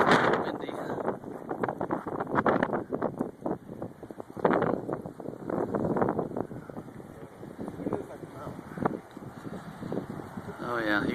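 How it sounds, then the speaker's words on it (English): Wind from an approaching Phoenix dust storm buffets the microphone in irregular roaring gusts, surging and easing over several seconds, with people talking now and then beneath it. "Windy."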